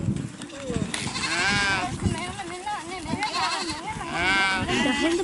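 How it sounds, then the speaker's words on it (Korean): Sheep and goats bleat repeatedly from a pen in the Gobi Desert, Mongolia, several wavering calls overlapping near and mid-distance while people talk over and between them. "양과 염소들이 우리에서 나가도 그냥 놔둡니다"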